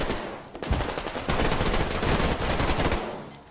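Rapid automatic gunfire in the online shooter Survarium rattles in dense, continuous bursts with a sharp onset, loud and close, with no talk over it.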